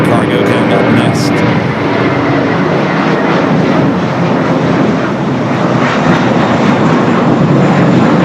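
A Boeing 777 freighter roars loud and near as it takes off from a runway at Los Angeles International Airport, its jet engines a broad sustained rumble that holds steady throughout.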